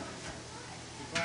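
Food fries in hot grease at a stall at a Renaissance Pleasure Faire, a low, steady sizzle under a busy background with a brief louder crackle near the end; voices are faintly present.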